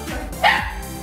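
A dog gives a single short bark, close and loud, at a first birthday party.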